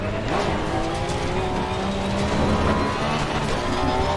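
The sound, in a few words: race car braking late, Assetto Corsa Competizione video game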